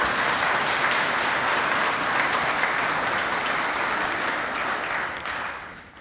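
A congregation claps at a memorial service inside a church, sustained broad applause from many people that holds steady and then thins out toward the end.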